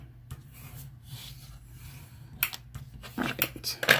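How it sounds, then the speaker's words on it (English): A bone folder rubs and burnishes across a fold in card paper, with soft scraping strokes that grow louder and more rapid toward the end, close and fairly quiet. "I'm going to use my bone folder to burnish this"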